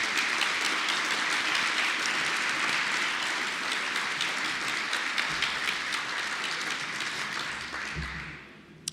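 Sustained audience applause fills a gala ceremony hall, a dense, steady wash of many hands clapping at full strength that gradually thins and tapers off toward the end, with no talk over it.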